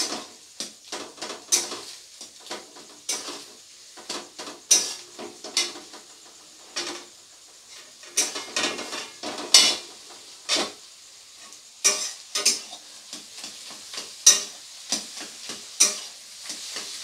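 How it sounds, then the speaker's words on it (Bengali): Egg bhurji stirred and fried in a pan, with irregular scraping strokes of a spatula and soft sizzling between them, close and fairly loud, no speech. "এরপরে খুব ভালো করে নাড়াচাড়া করে ডিমটাকে ভুর্জি তৈরি করে নেব।"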